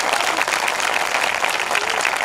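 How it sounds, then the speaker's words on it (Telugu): A church festival crowd claps loudly on command, a dense, continuous roar of applause from many hands that holds steady without a break, with some crowd noise mixed in. "గట్టిగా చప్పట్లు కొట్టు."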